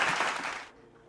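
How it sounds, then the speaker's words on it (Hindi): Applause from a seminar audience, a broad burst of clapping that fills the first part and then cuts off to near silence. "तो पंक्चुअलिटी के नाम पर ज़ोरदार तालियां हो जाएं।"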